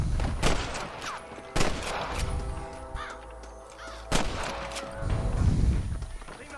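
Gunfire cracks through a shootout in the Western video game Red Dead Redemption, with several sharp loud shots at irregular intervals over rumbling background noise and brief game voices.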